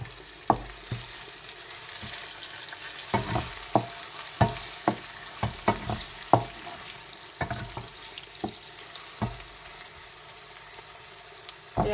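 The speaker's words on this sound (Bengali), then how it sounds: "পেঁয়াজটা ভাজা হচ্ছে" Onions fry in oil in a pan, a quiet steady sizzle broken by a series of sharp stirring clinks and scrapes at an uneven rhythm.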